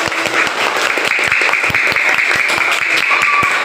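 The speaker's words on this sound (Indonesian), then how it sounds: "jadi tepuk tangan untuk kelompoknya Mbak Sydney" A classroom of children claps for a student group called up to the front, steady dense applause throughout at close range with no talking.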